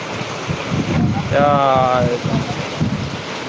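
Heavy downpour of rain in Jamkandorna, Gujarat: a steady, dense broadband roar that holds throughout, with a brief tonal sound rising midway.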